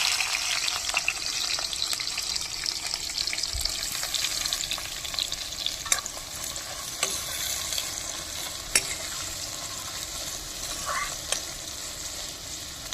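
Dried red chillies, whole cumin and chopped onion fry in oil in a pan with a steady, dense sizzle, broken by a few sharp spatula scrapes and clicks near the end.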